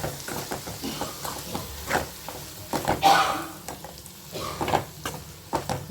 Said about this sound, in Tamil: உப்பு சேர்த்து இதையும் நல்லா வதக்கி விட்டுக்கலாம்.